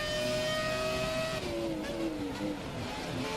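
A 2004 Ferrari Formula 1 car in F1 2017 races at Canada: a loud, high-pitched screaming engine holds steady, then drops in pitch through downshifts and climbs again, with close, continuous onboard tone.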